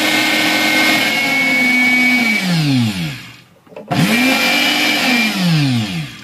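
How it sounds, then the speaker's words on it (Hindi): A Silver Crest masala grinder on a juicer-blender motor whirs loudly and close, the pitch climbing through three speeds. It drops to a brief silence, then spins up again and steps through its speeds once more. "मैंने इसके साथ ये मसाला ग्राइंडर लगा दिया है, इसको मैं ऑन करता हूँ। ये इसकी फर्स्ट स्पीड है, ये सेकंड है और ये थर्ड है"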